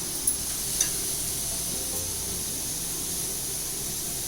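Vegetables for a momo filling, including beans and grated carrot, sizzle steadily in a pan as salt is mixed in, a constant close hiss with a couple of faint utensil taps near the start.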